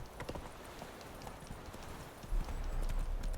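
Horse hooves trotting from the video game Witcher 3, with Geralt's horse Roach clip-clopping in quick irregular beats at moderate distance, joined by a heavier rumble near the end.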